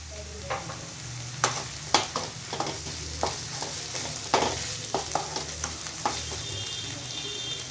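Tomatoes with salt sauté in a pan for spicy pepper chicken, giving a steady low sizzle broken by repeated sharp scrapes and clacks of stirring, close and moderately loud with no talking.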